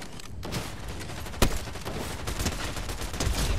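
Dense gunfire from Fortnite Zero Build combat, with rapid overlapping shots running steadily throughout and one sharp, louder report standing out partway through.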